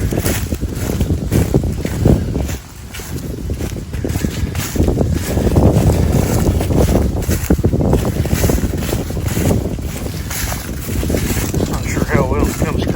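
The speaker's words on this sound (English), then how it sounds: "Very windy today." Strong wind gusts on a forest ridge in late fall, a loud, steady rushing roar with heavy microphone buffeting that dips briefly and then returns for the rest of the stretch.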